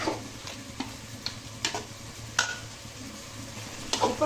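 Ingredients sauté in a pan for a yogurt-based dish, with a low continuous sizzle and irregular spoon scrapes and clicks against the pan, heard close and alone without speech.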